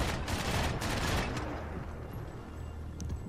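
Gunfire crackles in the video game Max Payne 3, a dense burst of rapid shots and booms that tails off into a quieter, rumbling lull.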